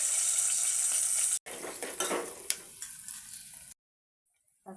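Onions dropped into hot tempering oil in a pan, a loud steady sizzle that cuts off abruptly, resumes with clinks and stirring scrapes, then falls silent; made for an egg pulusu curry.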